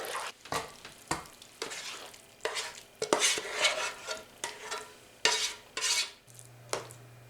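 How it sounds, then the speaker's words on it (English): Mac and cheese ingredients stirred together in a baking dish, a spoon scraping and clacking against the dish in repeated irregular strokes, close and fairly loud with wet squelching between the hits. "let's stir this all together."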